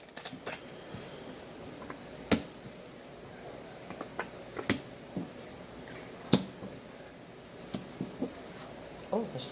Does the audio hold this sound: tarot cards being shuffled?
yes